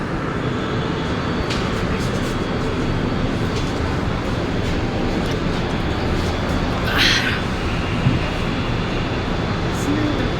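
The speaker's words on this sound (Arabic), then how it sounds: "هنا غنركبوا في المترو" A metro subway train ride, heard from inside a carriage as a loud, steady rumble and roar of running cars, with faint voices and occasional squeaks mixed in.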